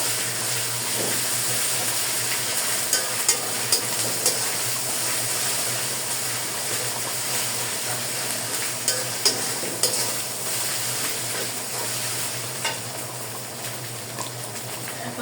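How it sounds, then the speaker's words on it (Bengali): Ginger-garlic paste fries in hot oil in a pan, a steady loud sizzle running throughout, with occasional small spatula scrapes and stirs close by. "আদা রসুনের পেস্টটা ভালো করে ভেজে নিব যাতে কাঁচা গন্ধটা না থাকে"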